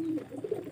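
A single soft, low coo from a white pigeon, warbling briefly and close, with a quiet background.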